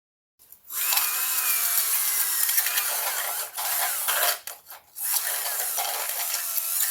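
A small rotary brush whirs at high speed inside the engine ports of a BMW F10 N57 diesel with a grinding, scrubbing hiss, running steadily and pausing briefly twice before spinning up again.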